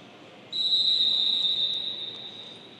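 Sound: referee's whistle ending the first half of a futsal match

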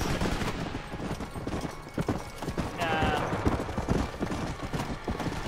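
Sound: horse hooves clip-clop in video game

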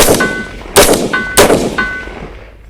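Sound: rifle gunshots

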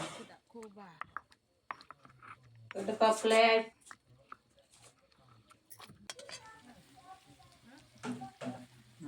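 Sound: ginger and tomato frying in a pan while stirred

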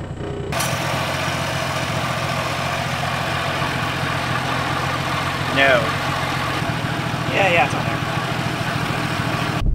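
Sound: 1966 Rambler 770 Classic engine running

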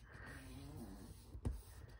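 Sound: pet snoring

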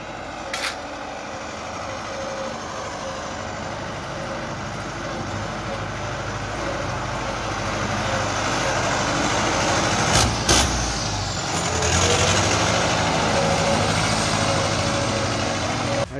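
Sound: Valmet 78 Turbo tractor engine running

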